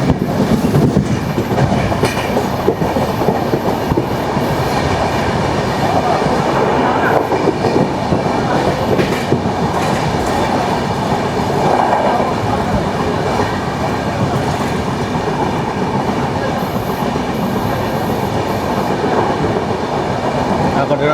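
The Barak Brahmaputra Express train runs past loudly and close, a continuous rumble with rhythmic clickety-clack of wheels over rail joints for the full stretch, with no talking.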